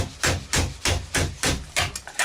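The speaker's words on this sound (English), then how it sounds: "So when I'm hitting it, I'm bringing the hammer down." Rapid, even hammer blows shaping a Yugoslavian mess tin lid over a wooden block, stretching the metal round a corner; about seven sharp strikes in quick succession, close and loud.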